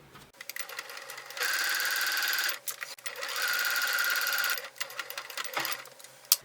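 A sewing machine stitches quilted fabric for a basket in two steady runs of about a second each, separated by short pauses and light handling clicks, fairly close and loud.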